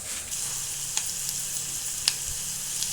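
Bachala greens (Malabar spinach) sizzling and frying in a pan for a tomato curry, with a steady hiss and a couple of sharper crackles, close and alone.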